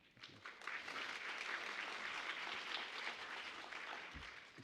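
Sustained crowd applause, a steady wash of many hands clapping at moderate distance, holding evenly for several seconds before easing slightly.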